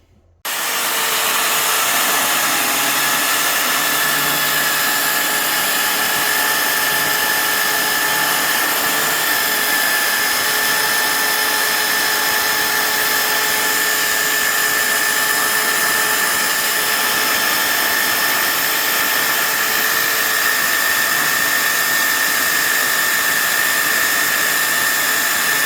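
A power drill whines at a steady high pitch, drilling holes for a fifth-wheel hitch mount, running loud and unbroken for a long stretch, close up.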